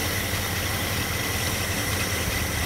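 A car engine idles steadily with an even hum while the carburetor's air-fuel mixture screw is turned in, the running holding constant and close throughout with no talk.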